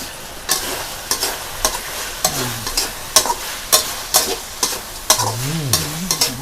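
Kaffir lime leaves are stir-fried with frog meat and dried chilies in a hot pan, with a spatula scraping in a quick, regular rhythm over a steady sizzle, heard up close with no speech.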